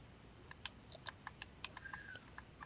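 Soft, rapid clicks from a computer keyboard and mouse tick in an uneven patter, faint and close, with a brief thin chirp partway through.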